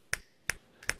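Three crisp finger snaps ring out alone, evenly spaced and close, each a short bright click against near silence.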